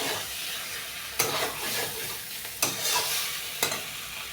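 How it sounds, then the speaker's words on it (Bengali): Fried eggplant stir-fried with spices for Hyderabadi dum begun, a steady loud sizzle with the scrape of a spatula in the pan and three sharper stirring knocks, no voices. "লবণ হলুদ দিয়ে ভেজে রাখা বেগুনগুলো দিয়ে দিলাম, দিয়ে ভালো করে কষে নেব"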